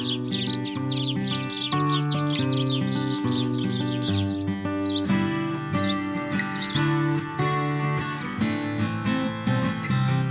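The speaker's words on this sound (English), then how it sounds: "Sparrows enjoy dropped crumbs from their human neighbors, but on a sunny evening enjoy nothing more than a luxurious dust bath." Sparrows in a city chirp in quick bright bursts while taking a dust bath on a sunny evening, the calls sitting under steady, loud instrumental music that carries throughout.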